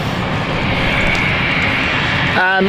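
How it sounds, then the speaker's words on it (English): An airliner taxiing at London City Airport in rain gives a steady, loud engine rumble and whine throughout. A brief tonal burst comes near the end, and a voice is faintly present. "This is the Glasgow flight, taxiing."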